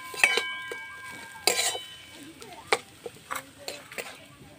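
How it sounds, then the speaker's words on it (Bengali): A savoury filling being stirred in a pan on the stove, with a few sharp clinks of a spoon against the pan between quieter scraping sounds, close by and fairly soft. "এবারে আমি সব নেড়ে চেড়ে তৈরি করে নেব পুরটা।"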